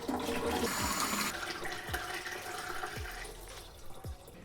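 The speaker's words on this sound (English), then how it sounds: "We just pour the water in, and we need to pour enough water to reach the max level over here" Water pours and splashes steadily into the plastic reservoir of a Gaggia Classic espresso machine, a continuous close gushing wash with small knocks, no voices.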